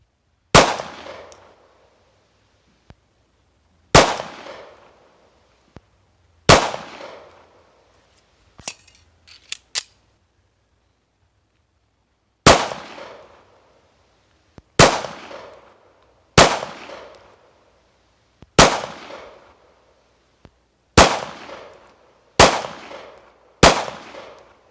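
Glock 26 pistol firing on a range, with single sharp, loud reports spaced a second or two apart and a faster run of shots toward the end, each decaying quickly, no talking.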